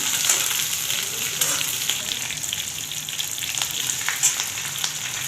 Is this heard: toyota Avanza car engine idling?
no